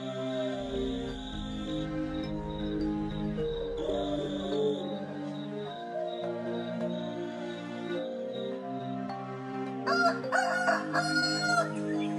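A rooster, the magic fighting cock of the folk tale, crows and clucks over a musical backdrop, several drawn-out cock-a-doodle-doo calls sounding close and clear, with a livelier burst of crowing toward the end.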